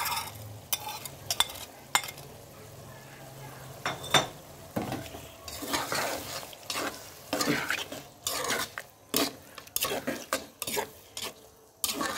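Meat is stirred and frying in a pan for a biryani, with repeated scraping spoon strokes and clinks over a steady sizzle, close and fairly loud throughout, no talking.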